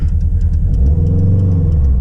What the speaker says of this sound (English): If you're hearing that, that's me messing with the clutch. That's me not giving it enough gas.